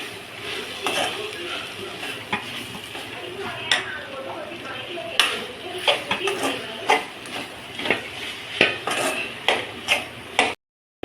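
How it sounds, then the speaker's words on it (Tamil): A spatula scrapes and clinks against a pan in an irregular rhythm while fried bitter gourd is stirred into gravy, with a soft sizzle underneath and occasional voices. "பொறிச்சு வச்சுருக்கிற பாவக்காய் வந்து இதில் ஆட் பண்ணுவோம் நல்லா கிளறி விடுவோம்"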